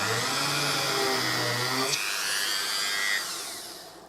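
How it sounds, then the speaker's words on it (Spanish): Small electric drill boring a small hole in a metal cookie tin, giving a high, whining buzz for about two seconds before it stops and leaves a faint hiss. "antes de colocar el tornillo, le vamos a hacer un pequeño orificio para que cuando coloquemos el tornillo esta patita no se nos resquebraje"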